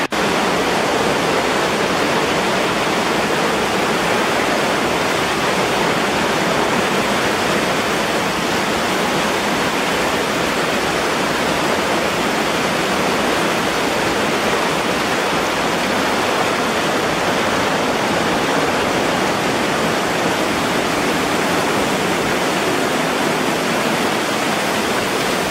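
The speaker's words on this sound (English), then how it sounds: "So this was the waterfall. Spectacular." A Costa Rican waterfall roars nearby as a dense, steady, broadband rush of falling water, loud and unbroken from start to finish, with no voices.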